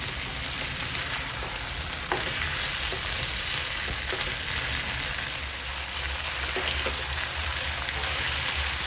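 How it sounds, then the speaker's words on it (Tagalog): Tomato paste sizzles and fries steadily in a pan while being stirred, a loud continuous crackle with occasional scrape clicks of the spoon against the pan. "Halo-halo lang para maluto yung ating tomato paste."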